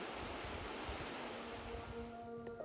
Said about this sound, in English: The rush of the Takaka River, joined by other outlets of the spring upstream.